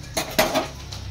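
Metal lid set onto a cooking pot while making fish masala curry, two quick clanks close by, the second sharper, then quiet.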